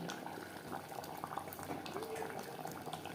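Water that was used to rinse spices is poured into a pot of mutton biryani, making a steady, close rush of liquid with light bubbling and no pause across the short stretch.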